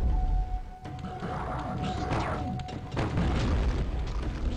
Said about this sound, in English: No, let's use my grenade launcher first.